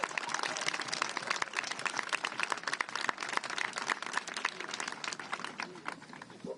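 Audience clapping at an abortion-rights rally held by Washington Gov. Jay Inslee, a dense, steady wash of many hands applauding throughout without pause.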